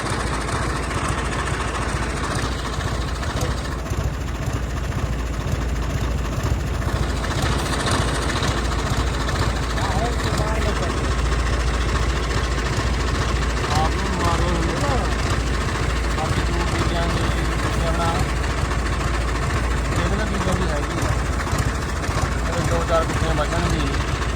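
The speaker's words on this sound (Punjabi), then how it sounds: "ਅੱਜ ਚਲਾਇਆ ਤਿੰਨ ਚਾਰ ਦਿਨਾਂ ਬਾਅਦ ਟਰੈਕਟਰ" A farm tractor engine runs at a steady idle-like drone for the whole stretch, low and continuous, while people talk over it.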